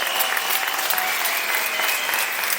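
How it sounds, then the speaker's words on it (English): Conference audience applauding in a large room, a dense, even roar of clapping held at steady loudness throughout. "A round of applause for Angel."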